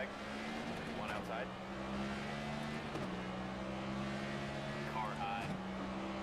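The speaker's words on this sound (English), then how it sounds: "Ambient sound as well as engine sounds." Race car engines in the NASCAR 25 video game drone steadily on track with sustained, slightly shifting engine tones, a couple of faint passes and ambient track noise. A voice talks briefly under the engines.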